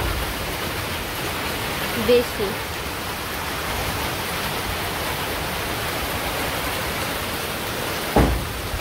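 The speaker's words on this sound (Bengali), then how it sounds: "বৃষ্টিটা হচ্ছে পশ্চিম দিকেই হইতেছে" Rain falls steadily in a village, a dense, even hiss with little variation, and a voice speaks briefly over it.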